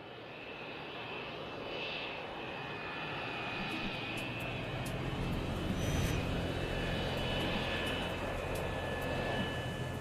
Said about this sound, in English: Passengers on board Crossair Flight 498 are waiting to take off.